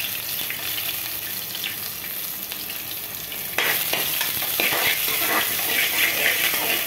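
Garlic frying in a pan alongside boiled pasta: a steady, close sizzle that jumps louder and crackles harder midway as more goes into the hot oil, with faint stirring and no voices.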